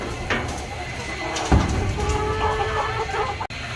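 Chickens clucking close by on a farm, short scattered calls over rustling handling noise and background activity.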